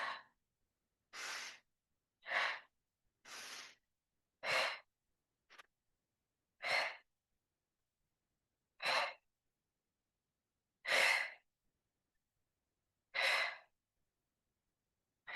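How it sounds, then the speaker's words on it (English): Forceful exhalations in kundalini breathing practice, about eleven sharp, breathy puffs spaced a second or two apart with silence between them, close and distinct. "Making the air forcefully exhale as you extend the upper back"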